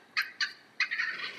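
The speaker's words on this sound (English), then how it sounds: "Turkey season is a passion shared by hunters" Three sharp turkey gobbles sound in quick succession from a radio ad for turkey calls, close and clear over near silence, the last one drawn out longer.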